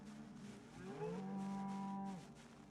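Cows moo in a zombie survival video game, one long, loud, drawn-out low moo rising in pitch and then holding steady, heard alone with no talk.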